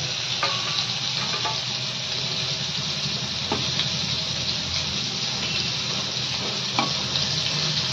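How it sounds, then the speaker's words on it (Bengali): Spiny gourd (kakrol) slices fry in oil with a continuous, loud crackling sizzle heard up close. Occasional soft stirring knocks sit over the steady hiss, and no one speaks. "তা আমি আরেকটু ভাজবো, আরেকটু লাল করবো"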